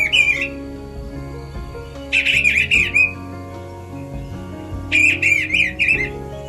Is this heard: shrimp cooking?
no